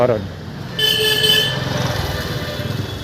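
A short vehicle horn blast sounds loudly for about a second, followed by an engine rumbling nearby.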